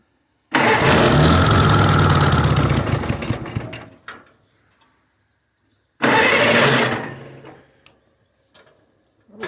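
A 1953 Farmall Cub tractor engine cranks and fires loud and close, running roughly for a few seconds before dying, then catches again briefly and fades out, with no choke applied.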